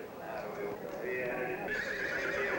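Horses whinnying amid the bustle of the New Holland, Pennsylvania horse auction, with several neighs rising over a steady crowd murmur and background voices throughout.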